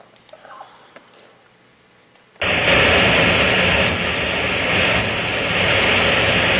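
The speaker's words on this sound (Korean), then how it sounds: "이 소리는 우리가 핑크 노이즈라는데 20에서 2만 헤르츠가 고르게 다 들어있는 소리입니다" A pink noise test signal spanning 20 Hz to 20 kHz starts abruptly after a quiet room stretch with faint talk, then plays as a loud, steady, broadband hiss through a speaker at an audio equipment seminar.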